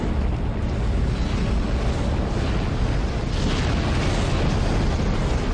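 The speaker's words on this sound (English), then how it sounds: "I don't understand why this is suddenly spewing fire." Fire spews from an object in the video game Dead Space as a dense, continuous roaring blast, loud and steady throughout with no pauses.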